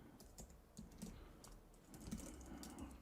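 Computer keyboard typing while entering code into a Webflow project: a quiet run of light, uneven key clicks over a few seconds, close and soft with no voices.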